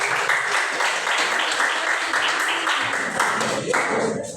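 Audience applause at a gathering where participants introduce themselves, a burst of brisk clapping close by with a few voices mixed in.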